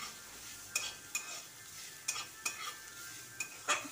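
Radish leaves and stalks frying in a pan, a soft continuous sizzle broken by about eight sharp scraping clacks of a spatula stirring against the metal, close and fairly quiet with no talking.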